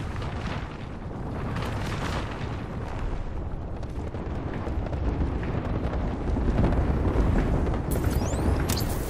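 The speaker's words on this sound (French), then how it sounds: "J'envoie une grenade thermique" Thermite grenade in Apex Legends going off, heard as a dense, sustained roaring rumble with crackling noise that swells slightly toward the end, loud and continuous, with no talk.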